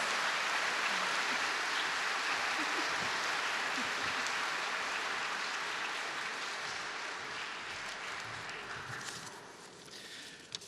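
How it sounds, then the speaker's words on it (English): A large audience at a seniors' gala cabaret in Brisbane breaks into long, dense applause to welcome the Lord Mayor, steady for several seconds before slowly fading. "A big warm round of applause."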